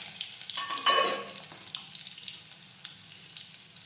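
Curry leaves drop into hot oil with a burst of loud crackling sizzle that then settles into a steady, softer spatter, close by, with no voices.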